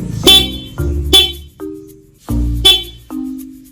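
Short stock motorcycle horn beeps from a Yamaha XSR 155 in a repeated pattern, loud and close, each a bright buzzy tone followed by a brief held note.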